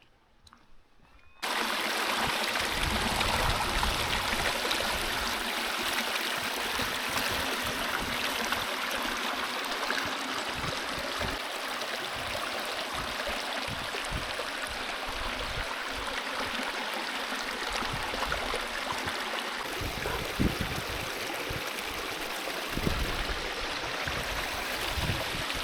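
A small stream flowing through a valley on a coastal hiking path in England, a steady close rushing and babbling of water that starts abruptly and continues loud and unbroken, with occasional splashes and no talk.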